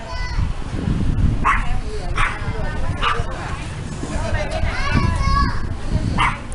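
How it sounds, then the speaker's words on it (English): A big dog barks in a bustling local market in Lào Cai, Vietnam, several sharp barks and yips spaced through the clip amid children's chatter and voices. "Big dog."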